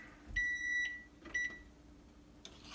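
Electric egg cooker signalling that the eggs are done: two short steady electronic beeps, moderately loud and close, with a small clatter right after in a quiet kitchen.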